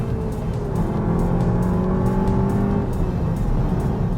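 A 2015 SEAT Leon ST Cupra engine gives a steady, loud, throaty growl with a low rumble that holds throughout and rises slightly in pitch, with no voices.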